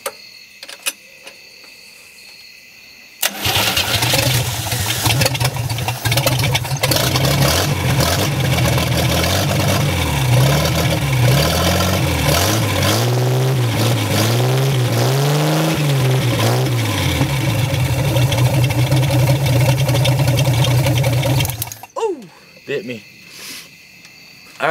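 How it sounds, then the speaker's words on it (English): A 1977 Camaro engine with a newly installed motor cranks, catches and runs for about eighteen seconds, its revs rising and falling in repeated swells before it cuts off abruptly, loud and close. "I'm gonna let it start up. It's gonna run for just a second for you guys"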